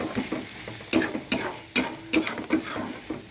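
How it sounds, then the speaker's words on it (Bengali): Ground spices and tomato being sautéed in a pan for a pointed gourd and prawn dish, with repeated spatula scrapes and taps on the pan in an even rhythm over a low sizzle, close and without speech. "এবার মশলাটাকে ভালো করে কষিয়ে নেব যাতে যাতে পুড়ে না যায়"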